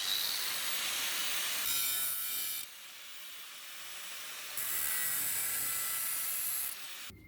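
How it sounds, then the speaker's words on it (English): Angle grinder running against an aluminium tray in a scrap metal spark test, a steady bright hiss that cuts out for about two seconds midway and then resumes at full strength before stopping. "you can see how easy it is to tell with the grinder"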